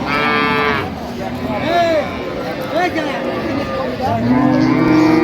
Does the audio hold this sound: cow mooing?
yes